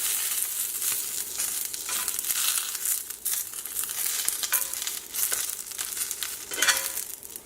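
Mirin-glazed chicken sears in a hot cast iron pan, a steady close sizzle and crackle with bursts of spitting that swell and fade.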